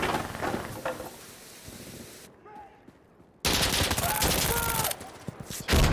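Dense gunfire from a FiveM multiplayer match comes in rapid overlapping bursts, loud at first, then a brief quieter stretch before heavy firing resumes. A faint voice may sit underneath the shots.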